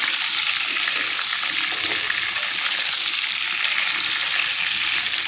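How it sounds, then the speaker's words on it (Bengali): Broiler chicken pieces frying in a pan while being stirred, a loud, steady hiss and crackle of hot oil that continues evenly and uninterrupted throughout, with no talking. "ব্রয়লার মুরগিটা ভেজে রান্না করলে খুবই টেস্ট হয়, তাই ভাজাটা"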